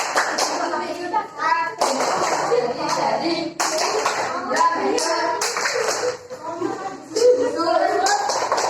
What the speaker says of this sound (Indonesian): Tepuk unsur-unsur lingkaran.